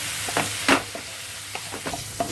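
Ginger garlic paste frying in a pan for methi chicken: a steady soft sizzle broken by several sharp spoon stirs and scrapes, close by with no talking.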